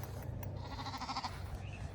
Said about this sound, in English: It's time to let the sheep into the yard.